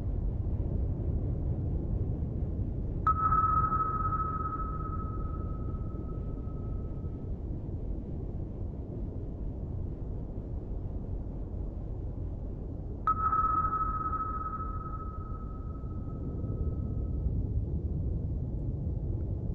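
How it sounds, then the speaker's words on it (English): Two active sonar pings from a Soviet Alfa class attack submarine in the Cold Waters naval game, each a sharp tonal ping that rings and fades over several seconds, about ten seconds apart over a low underwater rumble. "a sonar ping, an active ping, there we go, is underwater"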